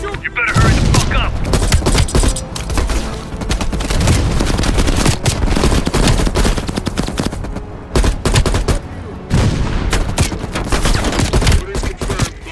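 Heavy machine gun fire from Call of Duty Black Ops Cold War, rapid loud bursts hammering almost continuously for the whole stretch, with brief pauses between volleys.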